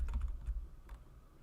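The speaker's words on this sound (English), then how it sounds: "I heard a keyboard." A computer keyboard is typed on during an online card game session: a quick burst of close keystrokes, followed by a few more scattered taps.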